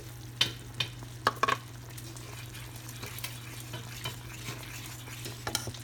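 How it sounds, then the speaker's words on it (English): Egg foo young gravy simmers in a pan on low heat, giving a soft, steady sizzle with a few sharp clinks of a utensil against the pan early on and near the end. "Okay, I'm going to turn this down to low. Kind of let it simmer a bit."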